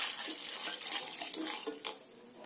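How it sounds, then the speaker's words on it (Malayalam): Water poured from a vessel into a pot of sambar with vegetables, a steady splashing gurgle running close and fairly loud for a couple of seconds, tapering off near the end. "ഇനി നമുക്ക് ഇതിലേക്ക് ആവശ്യത്തിന് വെള്ളവും കൂടി ചേർക്കാം"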